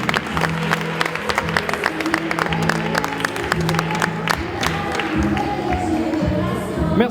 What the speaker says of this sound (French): Une bonne main d'applaudissements pour ces deux guerriers du ring